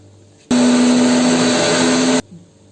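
A kitchen blender grinds garlic-chili paste with mint: a sudden loud, steady whirring roar runs close for under two seconds, then cuts off abruptly into quiet.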